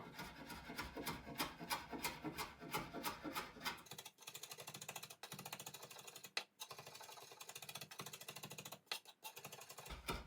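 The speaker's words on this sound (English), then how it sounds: "we're going to cut through again until it's really finely chopped" A knife chops parsley finely on a cutting board, starting with a quick run of rapid, even taps, then continuing as quieter rocking cuts with occasional sharper knocks, up close.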